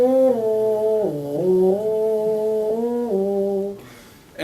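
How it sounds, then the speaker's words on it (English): A brass player hand-buzzes into a mouthpiece held in one hand with the other hand cupped around it, producing a steady, close, reedy buzz that slides between a few sustained pitches before cutting off briefly near the end. "it's something I do called hand buzzing"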